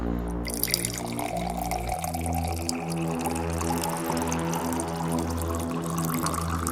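Water poured in a tense indoor drama scene, a continuous liquid trickle and splash under a loud, sustained musical drone, with no speech.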